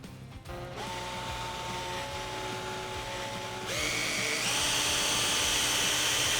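A drill spins a Mothers PowerBall for Lights, loaded with plastic polish, against a hazy car headlight, giving a steady whirring drone that climbs to a higher, louder pitch partway through.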